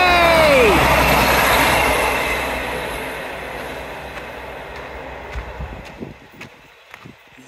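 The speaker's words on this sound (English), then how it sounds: "Happy train! Always the smaller ones that are the happiest!" A small train rolls past close by on the seafront at Teignmouth, loud at first with a descending whistle-like squeal, then fading away as light voices and clicks remain.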